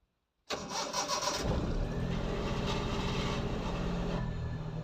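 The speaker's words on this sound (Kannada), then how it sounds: "ಮೊದಲು ಕೋಲ್ಡ್ ಸ್ಟಾರ್ಟ್ ಮಾಡೋಣ ಏಕೆಂದರೆ ಏಳು ದಿನ ಆಯಿತು ಸ್ಟಾರ್ಟೇ ಮಾಡಿಲ್ಲ ಈಗ ಮೊದಲನೇ ಸತಿ ಸ್ಟಾರ್ಟ್ ಮಾಡುವುದು" A car engine cold-starts after sitting unused for seven days: a brief crank catches abruptly, then settles into a loud, steady, close idle that continues to the end.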